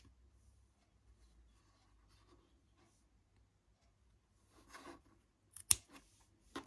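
Scissors cut yarn for a crochet wall hanging tassel: a few short, crisp snips near the end after a quiet stretch.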